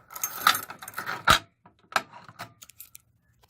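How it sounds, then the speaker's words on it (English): A bunch of keys, including an ADT fire alarm system key, jangles close up in several bright metallic bursts, then a few scattered clinks as they settle. "Okay, so grabbing the ADT key."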